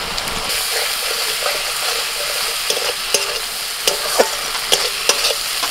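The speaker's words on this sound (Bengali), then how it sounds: "মিনিট পাঁচেক মশলাটা একটু তেলের মধ্যে ভেজে নিয়ে" Ground spice paste with turmeric and Kashmiri chilli powder frying in oil in a pan, a dense steady sizzle with a rhythmic run of spatula scrapes toward the end, near and fairly loud, no talk.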